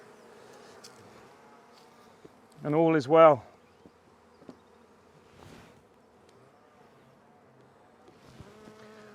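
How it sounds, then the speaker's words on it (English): Honey bees in a nectar flow buzz loudly at a crowded cell-builder hive packed with nurse bees, two swelling buzzing bursts rising close to the microphone over a faint steady hum, with brief speech nearby. "Absolutely bursting with nurse bees"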